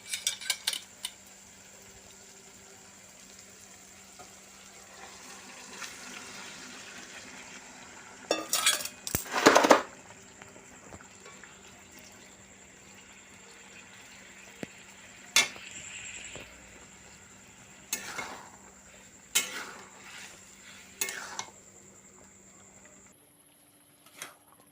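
Maggi noodles tipped into a pan after frying and stirred, with scattered clinks and scrapes of a utensil against the pan and a brief louder clatter, over a faint steady background hum.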